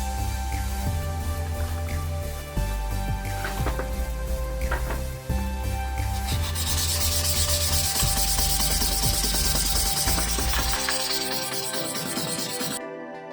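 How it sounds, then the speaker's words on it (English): Repeated rasping strokes of hand sanding a white cement terrazzo plant pot, steady rhythmic rubbing that grows brighter and scratchier, alongside soft background music. "Now let's sand it and bring out that terrazzo effect."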